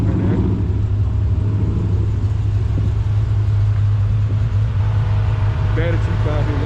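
A wide-body Hellcat muscle car idles with a steady deep engine rumble at an outdoor car meet, loud and close, while voices talk over it.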